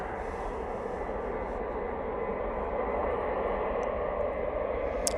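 A Ryanair airliner from Marseille at Manchester Airport produces a broad, steady jet roar heard from a distance that swells slightly toward the end, with no talking.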